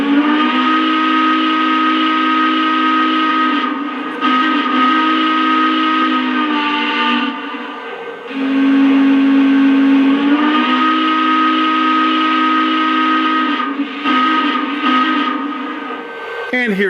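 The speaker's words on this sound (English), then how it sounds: "let's check out the whistle, which I kind of like on this engine" Steam whistle sound effect from a Lionel Frisco 4-8-4 Northern model locomotive, sounding loud and close in long sustained blasts with short breaks between them, over a steady hiss and no talk.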